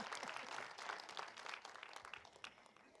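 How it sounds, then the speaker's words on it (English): A crowd at a fifth-grade challenge quiz show applauds a contestant, a quiet burst of clapping that starts full and gradually thins out over a few seconds. "A round of applause for Ms. Luana Dean Barber"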